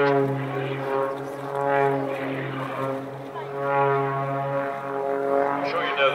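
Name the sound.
aerobatic plane flying knife edge, air-cooled flat-six engine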